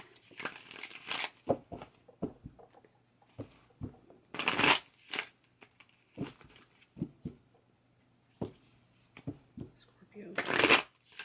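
Tarot cards shuffled in several separate bursts, crisp riffling flutters and soft card taps spread across the clip, close to the microphone with gaps of near quiet between them.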